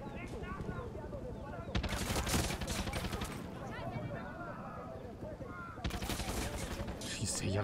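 A tank fires in Far Cry 6 amid bursts of rapid gunfire and booming shots, mixed with loud game noise and a voice talking over much of the action.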